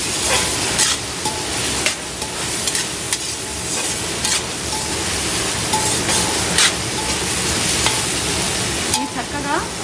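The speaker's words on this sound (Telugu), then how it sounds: "ఈ చక్కగా ఆయిల్లో ఇలా మగ్గుతూ ఫ్రై అవ్వాలి." Capsicum and mushroom cooking in hot oil in a pan, with a loud continuous sizzle and repeated stirring scrapes close by.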